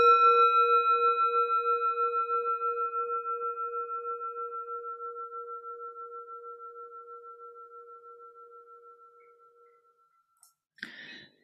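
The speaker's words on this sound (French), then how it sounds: "Avec le son de la cloche, on va sortir de ce petit arrêt." A single meditation bell struck once, its clear tone ringing out alone and slowly fading over about ten seconds, followed by a brief soft rustle.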